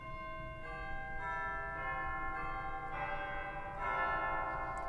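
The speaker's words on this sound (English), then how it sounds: "As a toy stop, we've got some chimes, which are actually playable on all the manuals, I think, sounding like this." Chimes stop on a huge 121-rank pipe organ in a Washington DC church rings out several bell-like struck notes in succession, each ringing on and overlapping in a resonant, reverberant space.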